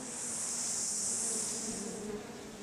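Bumblebees buzz steadily around lily-like epiphyte flowers on old trees in New Zealand forest, a close, continuous droning hum with no pauses and no voices.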